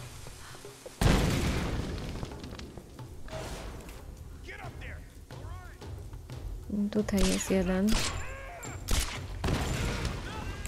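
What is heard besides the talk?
explosion in video game Tomb Raider (2013)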